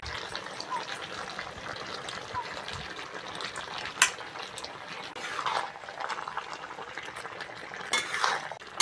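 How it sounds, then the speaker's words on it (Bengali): Fried shrimp go into a pan of simmering pui greens and pumpkin, giving a steady close sizzle and bubbling with a couple of sharp metallic clinks partway through and near the end. "এইবার ভেজে রাখা চিংড়ি মাছগুলো দিয়ে দেবো।"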